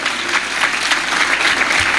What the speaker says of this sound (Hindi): आपकी भरपूर तालियों में हम उनको वेलकम कहेंगे